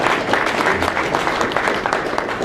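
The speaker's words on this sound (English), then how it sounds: "Give them a round of applause." Brief applause from guests at a congressional holiday party and toy drive in Temple City, a short busy patter of many hands at moderate loudness with faint crowd murmur beneath.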